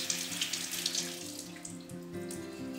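Tap water runs steadily to rinse sprouting seeds in a pottery sprouter, a close splashing stream with small gurgles and drips, alone without talk.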